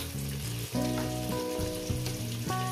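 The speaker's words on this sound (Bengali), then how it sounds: "দিয়ে এটাকে আমি 5 মিনিট ধরে ভেজে নেব" Potato pieces with turmeric and salt frying in a pan for a cabbage and fish-head curry, giving a steady close sizzle that runs without a break, with a tonal musical layer over it and no talk.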